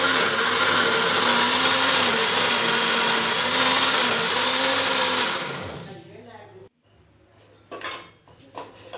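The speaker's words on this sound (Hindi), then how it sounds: "और इन तीनों चीज़ों को अब हम ब्लेंड कर लेंगे।" Electric blender whirring loudly and steadily for about five seconds, blending three ingredients including powdered sugar for a date cake, then winding down and stopping, followed by faint clatter and handling sounds.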